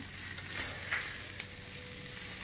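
Glass noodles with crab are stir-fried in a pan, giving a soft, steady sizzle with a few light stirring scrapes and no talking.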